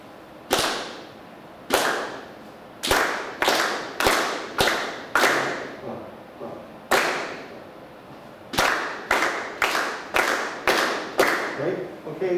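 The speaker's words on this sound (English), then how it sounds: "let's go ahead and clap this rhythm" A class claps an eighth-note rhythm together, sharp group claps in short spaced clusters with brief pauses between phrases, the pattern repeating steadily across the passage with no talking.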